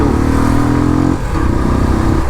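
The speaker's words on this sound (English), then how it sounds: "Let me rev the motorcycle in gear 2" A Royal Enfield Classic 350 BS6 single-cylinder motorcycle revs in second gear, its close, loud, throbbing engine note rising, briefly dipping midway, then pulsing again.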